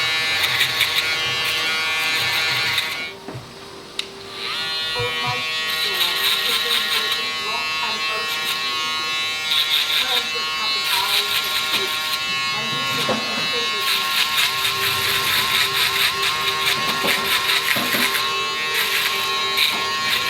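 A Babyliss FX3 electric shaver buzzes steadily and loudly up close, its hum dipping briefly early on before continuing unbroken to the end.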